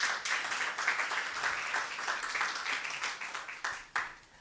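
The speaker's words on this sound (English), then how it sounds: "So we applaud you all for that." Audience applause at a school debating competition, a soft, fairly distant patter of many hands clapping that holds steady throughout, with a few sharper claps near the end.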